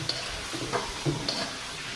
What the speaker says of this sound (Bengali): মশলাটা ভাজা হয়ে গেছে, এবার আমি কই মাছগুলো দিয়ে দিচ্ছি।